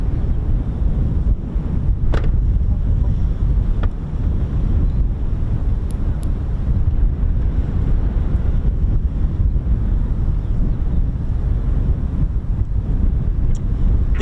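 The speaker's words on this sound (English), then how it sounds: "Wind's just picking up a bit now." Wind gusting across an open airfield at RAF Marham, a steady loud rush of buffeting microphone noise lasting throughout, with a few faint clicks and no talking.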